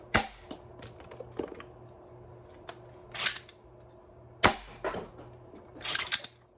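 A 3D-printed Nerf Wildstyle blaster fires stacked half darts: a few sharp, spaced snaps and clacks with quieter mechanical clicks between, close and fairly soft, with no talking.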